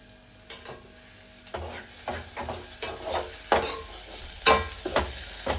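Onions fry in a pan at home for an egg curry, with a soft steady sizzle and irregular scraping knocks from a spoon stirring them, close and clear, no voices.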